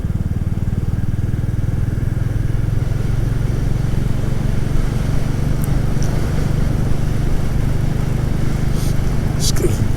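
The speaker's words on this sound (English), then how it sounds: "that's the beauty of this bike. You go in steady and then you can hear it coming out" A motorcycle engine drones loud and close with a steady low rumble and rising pitch, continuous throughout with some faint clatter near the end.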